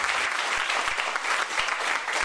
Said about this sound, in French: Applaudissez à Jésus très fort.